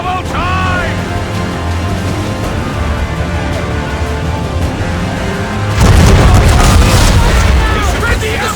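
Ship cannons fire a broadside in Assassin's Creed 3, heavy booms rolling in after a stretch of shouting crew voices and sea-battle ambience, the blasts loud and rumbling through the final seconds.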